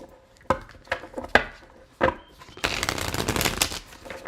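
Tarot cards are handled close by, with a few sharp taps and flicks, then a dense, rapid riffling shuffle that runs to the end.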